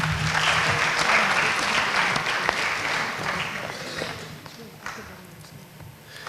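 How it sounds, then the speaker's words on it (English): Applause from the audience at a college athletics recognition ceremony, a dense round of clapping with some voices mixed in that gradually tapers off. "So please give him a round of applause"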